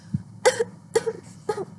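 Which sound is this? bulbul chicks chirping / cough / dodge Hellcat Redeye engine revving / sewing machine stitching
cough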